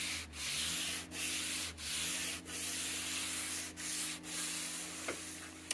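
Hand sanding with fine-grit paper on a rusty Ford Mustang trunk lid, close rhythmic back-and-forth rasping strokes in a quiet space with a faint background hum.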